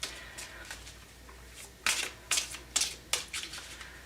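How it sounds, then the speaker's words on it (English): A deck of tarot cards is shuffled by hand in a quiet room, giving a run of soft papery riffles and several sharper, louder slaps and flutters near the end. "See if I can shuffle these without throwing them all over the place."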